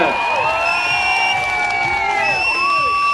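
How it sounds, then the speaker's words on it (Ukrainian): Disco concert audience cheering and whooping continuously at close range, a dense crowd roar with shouts and some applause mixed in, no speech over it. "Давайте поаплодуємо всім артистам."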